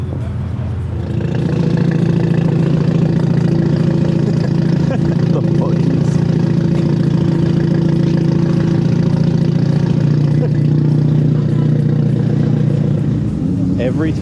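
Sports car with a Sport Package GT exhaust, rumbling steadily and loud at close range at a cars-and-coffee meet, a deep continuous drone holding for the whole stretch with a slight change in pitch partway through.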